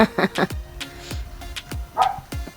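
Sharp, repeated dog barks at birds ring out in quick succession, fairly close, with a voice briefly heard around them.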